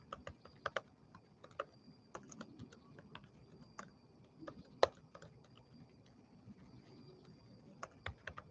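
Fingers typing on a computer keyboard, quick irregular clusters of light clicking keystrokes with short pauses between bursts, close and fairly quiet in an otherwise still room.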